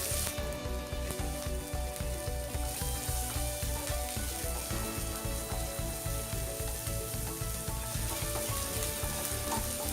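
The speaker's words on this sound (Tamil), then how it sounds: "கோல்டன் ப்ரௌன் ஆகிற வரைக்கும் வதக்கிக்கலாம்." Chopped onion and curry leaves sauté in hot oil with asafoetida for a Tamil baby potato fry, a steady crackling sizzle with repeated soft stirring scrapes throughout, close and fairly loud, with no talking.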